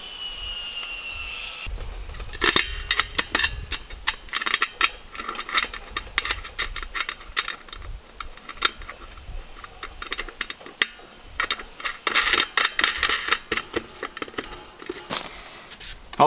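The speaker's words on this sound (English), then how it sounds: "We're going to attach the body of the barbecue to the base and take a wing nut, a bolt," Metallic clinks, rattles and ratcheting clicks as a portable charcoal barbecue body is bolted to its base with a wing nut, bolt and washer, close and busy in irregular bursts, with no voices.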